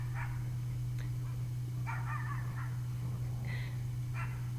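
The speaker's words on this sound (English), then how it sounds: "I hope that dog isn't too distracting for you." A dog barks in the background in a few short bursts, moderately distant, over a steady low electrical hum in a quiet room.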